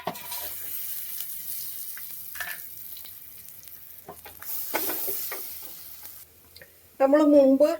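Soaked ground paste added to a hot pan of frying ginger and curry leaves, giving a steady close sizzle with stirring scrapes, under a person talking, then a bird calling near the end.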